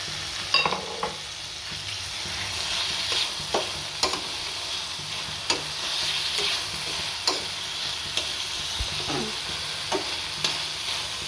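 Fried potatoes get stirred into hot oil in a pan for a soybean curry, a continuous sizzle punctuated by repeated sharp scrapes and taps of the spatula every second or so, close and clear without speech.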